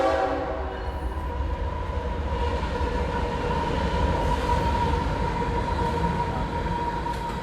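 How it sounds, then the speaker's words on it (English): A train rolls through the small town of Bell Buckle, a steady loud rumble of wheels and cars with a sustained horn tone running over it throughout, no voices. "Here comes the train."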